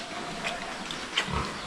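A pig on a farm gives a few short grunts and squeals, fairly close, over steady background noise with no talking.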